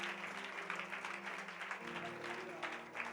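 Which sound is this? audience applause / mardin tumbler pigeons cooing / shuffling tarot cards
audience applause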